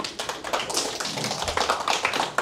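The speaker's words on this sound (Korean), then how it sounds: "다양한 지적재 사건에 대해서 설명해 주신 의원님께 다시 한번 큰 박수 부탁드리겠습니다" Audience applause after a talk on intellectual property cases, a dense burst of many hands clapping close and steady for a couple of seconds, with no talk over it.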